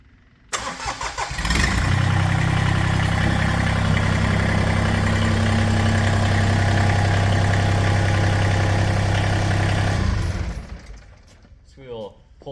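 A Massey Ferguson 1GC.25 compact tractor diesel cranks, then fires and settles into a loud, steady idle that drones for about eight seconds before shutting off.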